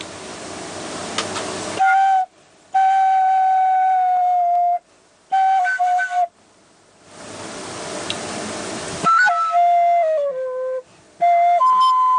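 A Thai bamboo flute test-blown in short phrases, clear whistly tones sliding between notes, separated by breathy rushes of air and brief pauses.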